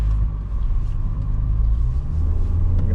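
Steady, fairly loud low engine and road rumble fills the cabin of a 2021 Nissan Kicks as it drives along, constant throughout with no talk.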